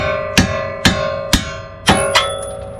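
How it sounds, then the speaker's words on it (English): A hammer taps bolts out of a car's suspension during a coilover install, giving five sharp, ringing metallic strikes spaced about half a second apart, close and loud with no talking. "got these bolts, just gotta tap them out"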